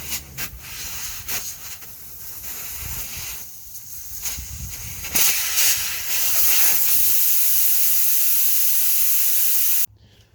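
Compressed air rushes out of a 295/75R22.5 truck tire through the open valve stem with its core removed, a loud steady hiss that builds stronger partway through and then cuts off abruptly near the end.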